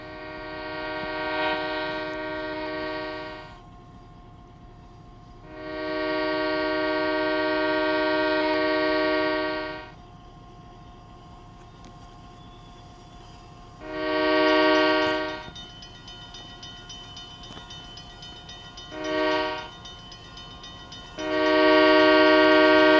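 A freight train with loaded coal hoppers rolls past steadily, its horn blaring in long and short blasts over the continuous rumble of wheels and cars.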